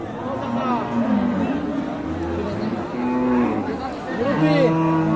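Several cows moo repeatedly amid a busy outdoor Eid cattle market crowd, with people talking, chattering and haggling over prices around them.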